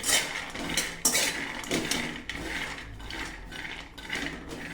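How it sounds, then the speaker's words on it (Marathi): Peanuts roasting in a pan rattle and scrape with repeated dry, clattering strokes as they are stirred, steady and close throughout with no talk. "तर आपण इथे आता शेंगदाणे मस्त असे भाजून घेत आहोत"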